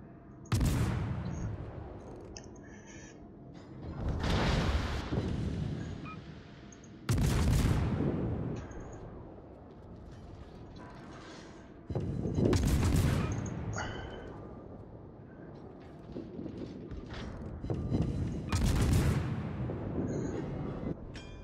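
Heavy naval guns of the battleship Vladivostok fire in a video game, five deep booming salvos spaced several seconds apart, each followed by a long rumbling decay, loud and close with no talk.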